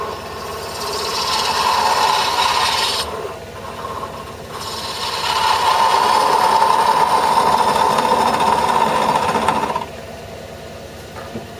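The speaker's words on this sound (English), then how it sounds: "Bevel rubbing all the way round." A woodturning tool's bevel rubs against a spinning wooden mushroom on a lathe, giving a steady scraping hiss with a humming motor beneath, two long passes broken by a short pause, close and loud.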